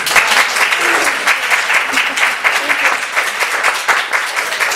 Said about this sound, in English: so you can give her a round of applause